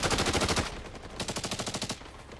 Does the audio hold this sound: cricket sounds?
no